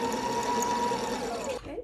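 A sewing machine winds a bobbin with a steady, close, continuous mechanical whir and hum that runs unchanged before slowing and stopping near the end.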